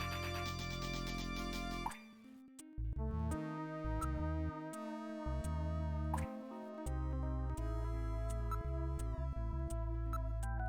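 Water drips in the video game Snatcher, a run of separate plinking drops over a sustained musical backdrop, fairly clear and close, repeating at an irregular pace.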